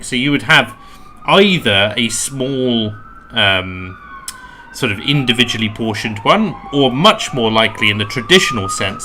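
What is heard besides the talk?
emergency vehicle sirens outside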